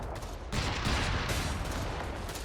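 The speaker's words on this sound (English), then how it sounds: "this guy starts shooting" Dense battlefield gunfire from the Company of Heroes 3 video game, a sustained burst of overlapping shots and rumble that starts abruptly and continues loud and continuous.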